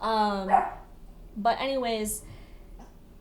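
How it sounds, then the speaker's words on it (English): A pet dog barks repeatedly in the background indoors, a few sharp yaps and a whine heard beneath someone talking. "sorry about my dog"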